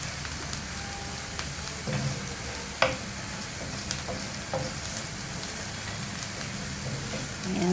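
Marinated chicken strips seasoned with garlic, salt, black pepper and olive oil sizzle steadily in a pan, a soft continuous crackle broken by occasional clinks and scrapes of stirring.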